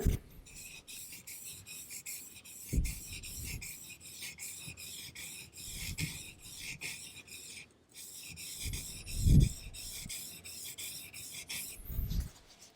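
A steel blade is stroked back and forth on a soft Arkansas sharpening stone, giving a quiet, steady rhythm of repeated rasping strokes with occasional soft knocks.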